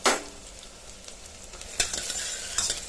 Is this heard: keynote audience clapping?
no